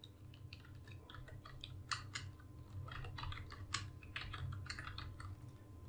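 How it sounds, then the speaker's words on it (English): Someone types on a computer keyboard in close, crisp bursts of key clicks with uneven rhythm and a few louder keystrokes, against a low background hum. "Now I type exactly this here."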